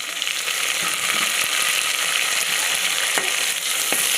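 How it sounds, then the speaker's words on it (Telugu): Two tomatoes fry in oil for a fish curry, giving a steady, close sizzle with crackling spatter and a few sharp clicks from stirring, no talking over it. "ఇవి బాగా వేగనివ్వాలి మెత్తంగా అయిపోవాలండి ఇవి ఆయిల్లోనే వాడుకోవాలి"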